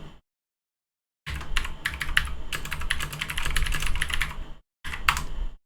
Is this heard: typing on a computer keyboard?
yes